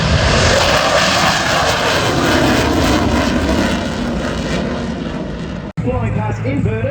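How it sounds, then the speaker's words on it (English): Loud, sustained roar of an F-18 Super Hornet fighter jet flying past at an airshow, broadband engine noise filling the air before cutting off abruptly, followed by a quieter stretch with crowd or voices faintly audible. "F-18, that's Super Hornets!"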